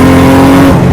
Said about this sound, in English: Sophies S14 with a 2J running nearly 700 horsepower